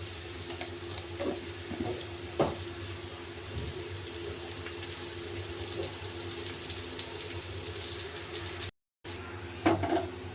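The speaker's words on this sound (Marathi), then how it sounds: "यामध्ये थोडंसं तेल घालायचं आणि थोडीशी साखर घालायची, कांदा लवकर फ्राय होतो" Onion frying in a little oil with a pinch of sugar, a steady low sizzle that runs quietly throughout, with a few soft utensil clinks near the start and again at the end.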